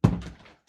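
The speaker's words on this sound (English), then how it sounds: "Because the door keeps banging and the window just scares me." A door bangs once with a dull, close thud in a room where heavy rain is falling outside. The knock decays quickly into silence.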